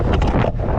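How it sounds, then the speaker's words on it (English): A strong hurricane gust of wind buffets the microphone while skating, a loud, rough rush of noise, brief and unbroken. "It's so windy."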